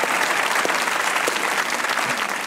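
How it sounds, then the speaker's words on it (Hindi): Applause from a studio audience on a Pakistani comedy talk show, a dense, steady wash of clapping that holds at an even level for the whole stretch with no voices over it. "एक बार तालियां होनी चाहिए"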